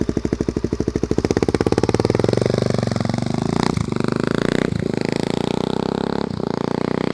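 A Suzuki DR-Z400 supermoto motorcycle engine runs nearby with a loud, rapid, steady thumping pulse, briefly dipping a few times as the throttle eases off and returns.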